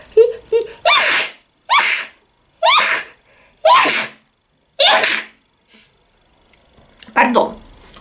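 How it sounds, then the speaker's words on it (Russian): A woman sneezes once, loud and close, after short breaths, in a home setting where she has been tasting sencha green tea, with a brief stir afterward. "сейчас я чихну"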